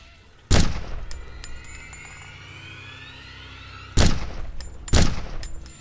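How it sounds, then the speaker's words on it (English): Three sharp gunshots ring out, the first alone and then a pair close together, each followed by a brief ringing echo over a quiet outdoor background. "it's just me practicing with my new gun"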